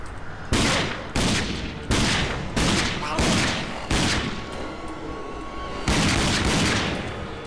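Heavy gunfire in the shooter game Rage, a series of about eight loud booming bursts spaced roughly a second apart, each decaying with rumbling echo, close and dominant.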